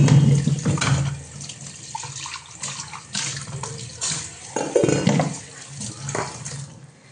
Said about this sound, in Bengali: মিক্সির বাটিটা ধুয়ে নিই